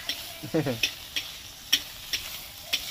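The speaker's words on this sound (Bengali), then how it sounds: "চিংড়ি মাছটা ভাজা হয়ে গেছে, এবার আমি" Shrimp frying in a pan for a village-style bean and dried-fish dal, giving a soft steady sizzle broken by several sharp clicks and scrapes of a utensil stirring and turning the pieces.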